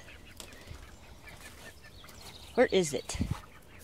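Small chicks chirp and cluck in short bursts near the end, fairly close, while a person speaks briefly over low background noise.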